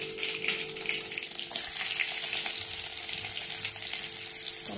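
Crushed garlic drops into hot oil with five-spice tempering of cumin and mustard seeds for masoor dal, giving a loud, bright, continuous close sizzle with a brief burst of crackling partway through.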